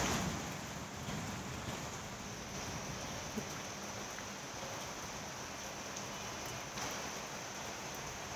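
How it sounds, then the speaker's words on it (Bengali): Steady heavy rain pours down over Dhaka city in a dense, continuous hiss with no breaks, filling the whole scene evenly. "বৃষ্টির জল পড়তেছে আর কি পরিমাণ বৃষ্টি হচ্ছে একটা দেখেন আপনারা"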